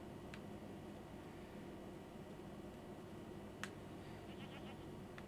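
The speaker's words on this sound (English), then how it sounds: "Goats." Goats bleating in the video game Jade Empire, a faint animal cry over a steady noisy game ambience, with a brief sharper sound partway through and soft short calls near the end.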